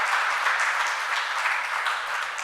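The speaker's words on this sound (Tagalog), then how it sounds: "Palakpak muli sa Panginoon." Church congregation applauding in praise during a Filipino worship service, a steady dense wash of clapping that holds evenly from start to finish with no voices over it.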